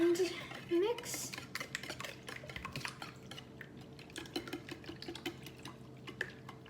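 Egg white and yolk are mixed in a bowl for a breakfast egg hash, giving quick irregular clinks and taps of utensil against the dish, fairly close and quiet, with a few brief vocal sounds near the start.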